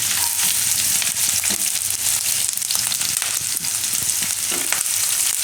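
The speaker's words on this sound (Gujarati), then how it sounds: "થોડીક વાર બધું તેલમાં ફેરવી લેવાનું." Ginger, chilies and green turmeric fry in oil in a pan, producing a loud, dense, continuous sizzle with occasional stirring scrapes, close up and without talk.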